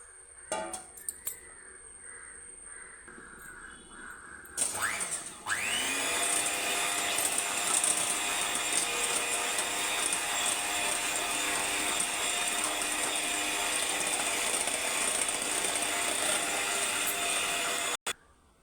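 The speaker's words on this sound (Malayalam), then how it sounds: "നാല് മുട്ട ഇവിടെ എടുത്തിട്ടുണ്ട് ഇത് നമുക്കൊന്ന് ബീറ്റ് ചെയ്തെടുക്കാം" An electric beater whisks four eggs for red velvet cake, starting after some clatter and then holding a steady, high-pitched motor whine for over ten seconds before stopping abruptly.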